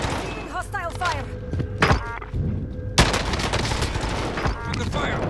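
Rapid gunfire bursts and thuds in a first-person shooter match, loud and close, with sharp repeated shots over busy game sounds and a brief voice callout.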